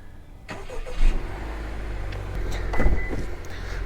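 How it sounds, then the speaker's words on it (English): A 2022 Honda Accord Sport 2.0T engine cranks and catches, then settles into a steady idle rumble with a second surge partway through, close by and fairly loud. "might as well start the car"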